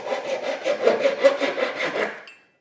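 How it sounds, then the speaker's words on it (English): A flush trim saw rasps back and forth in quick, even strokes, about ten close, crisp cuts trimming edge banding flush before stopping. "You could even take a flush trim saw like this"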